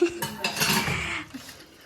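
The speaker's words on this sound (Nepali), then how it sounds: "सुत्केरी चाहिँ यस्तो भइसक्नु भयो र पनि जुठो भाँडा धुनुहुन्छ" Dirty dishes get washed by hand, with metal pots and utensils clinking and clattering close by in a brief, busy cluster of knocks that trails off into a last light tap.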